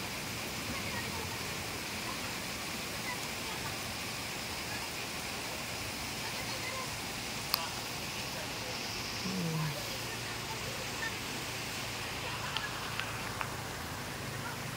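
A downpour in a rural Philippine province gives an unbroken, even roar of falling water at a moderate level, with only a couple of tiny knocks breaking through.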